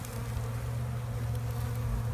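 Honey bees buzz around the feeders of a hive in spring, a dense, steady droning hum held close to the microphone without a break and with no voices.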